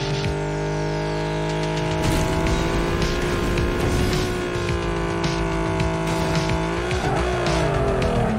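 Arcade-style car racing game with a sustained engine drone and tire squeal as the car drifts through a corner, loud and continuous with pitch shifts near the end, no talking.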